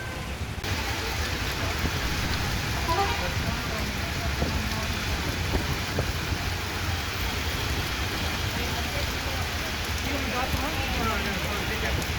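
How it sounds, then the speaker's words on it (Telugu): Heavy rain pours down over the Kukatpally area of Hyderabad: a loud, dense, unbroken hiss that holds steady throughout, with no voices over it. "కూకట్పల్లి ప్రాంతాల్లోనూ జోరు వాన కొనసాగుతుంది."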